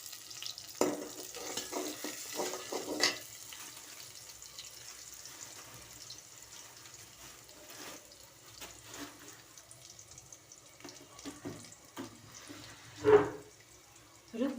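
Two bay leaves sizzle softly in hot oil in a pan at the start of cooking dal, with quiet stirring scrapes and a few louder clatters, faint and close, with no talk.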